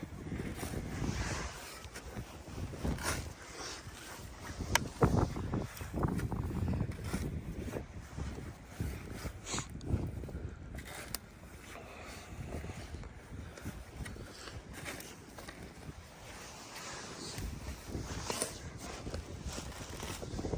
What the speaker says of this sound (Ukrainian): Вітер у нас сьогодні, конечно, такий добрий дує.